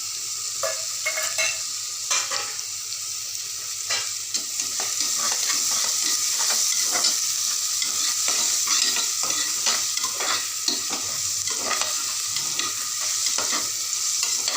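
Green chilies, coriander and mint stir-fry in a pan for a white veg pulao, a continuous close sizzle with repeated scraping and clattering of a ladle throughout.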